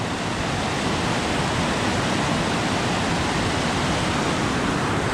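Steady broadband roar of falling water near the bottom of a waterfall along the Green River, loud and unbroken, with no voices.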